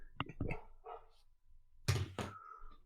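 A dog barks several times in quick bursts indoors during a lively evening, the sharp yips close and fairly loud, with a final pair of stronger barks near the end.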